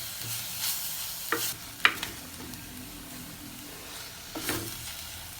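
Amaranth greens being sautéed in a pan, with a low steady sizzle and a few sharp scrapes and clinks of the stirring spoon at intervals.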